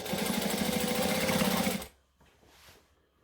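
A sewing machine stitches down the seam allowance on a McCall's M6614 hoodie, running in a loud, steady, rapid whir close by for nearly two seconds before stopping, leaving a faint rustle of fabric afterward.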